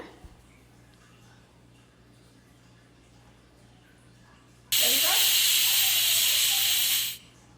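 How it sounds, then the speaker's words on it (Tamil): A loud, steady steam hiss from a pressure cooker whistle while cooking chicken biryani bursts in suddenly and continues for a couple of seconds before cutting off, after quiet background sounds. "இதை மூடி போட்டு நான் ஒரே ஒரு விசில் மட்டும் விட்டுருங்க"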